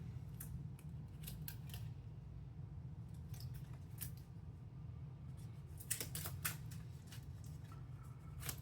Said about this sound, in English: So now we shuffle these cards into here.